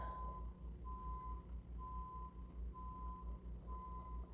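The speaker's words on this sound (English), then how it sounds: "it's like the whole truck is backing up over here." A delivery truck reverses somewhere outside, its backup alarm sounding faint, evenly spaced beeps over a low rumbling engine.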